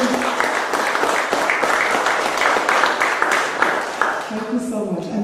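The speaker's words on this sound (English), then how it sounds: "Give that round of applause for all the poets, musicians," A crowd at a music and poetry night on St. Croix gives sustained applause, steady clapping for several seconds before it fades and a voice begins speaking.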